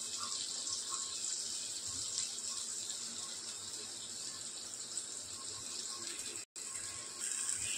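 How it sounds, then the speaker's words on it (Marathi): Water is poured into a mixer jar in a home kitchen while making pink perch fish curry, a steady close pour running for about eight seconds with one brief break near the end, no talking. "आता मी मिक्सरच्या भांड्यात पाणी घालू. त्यात पाणी घालते."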